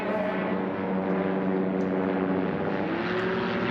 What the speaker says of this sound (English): Hal with his Stockmanized Rotax engine is pulling a bit of a lead at the midpoint